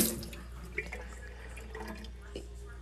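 A kitchen tap runs faintly and steadily, with a soft hiss of water and a small clink partway through.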